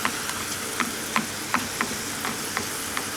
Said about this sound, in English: I'm going to let that come to the boil now and start to reduce down again before I add my apples